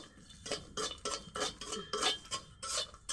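Dried fish (shutki) frying in a hot wok, with a metal spatula scraping and clattering against the pan in steady, rhythmic strokes, close and fairly loud.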